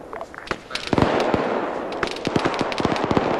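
Rapid bursts of video game gunfire, sharp cracks overlapping in quick irregular volleys, loud and close.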